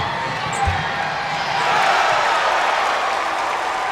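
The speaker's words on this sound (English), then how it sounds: "Crowd making some noise here at Alfond Arena" A crowd fills Alfond Arena during a Maine versus Vermont college basketball game, a broad steady roar that swells slightly, with a single ball bounce early on.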